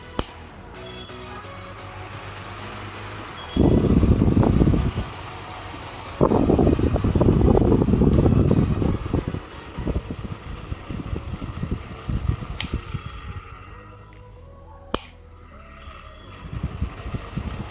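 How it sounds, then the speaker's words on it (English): A Crompton Trans Air ceiling fan that has just been wired up runs with a steady hum and slight mechanical noises. Close, louder whooshing bursts come and go over the running sound, and no one talks. "Fan is making slight noises"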